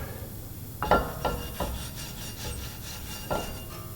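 Scraping and rubbing on rusty rear brake parts from a 2016 Dodge Grand Caravan, a handful of separate rasping strokes with clanks, close and fairly loud, with no talking.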